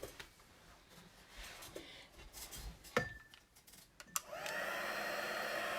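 An embossing heat tool drying heat-set embossed ink switches on after a few light clinks and taps, then blows a steady, fairly loud whooshing hum to the end.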